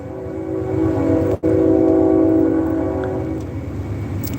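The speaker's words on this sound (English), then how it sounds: "there's that train again" A train rolls past close by with a loud, sustained horn blast that holds steady, cuts briefly, then resumes and fades as the rumble of the cars continues; no one speaks.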